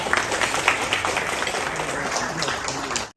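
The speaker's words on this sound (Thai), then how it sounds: "ขอเสียงปรบมือด้วยนะครับ" An audience at a founding-day ceremony claps for a newly installed association president, a dense even wash of applause at moderate loudness that holds steady before cutting off abruptly at the end.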